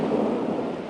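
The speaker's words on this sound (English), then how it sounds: "Just the sound of the thunder as well." Thunder rumbles loud and close through a severe Labor Day thunderstorm, a continuous low roar with rain hissing underneath and no voices.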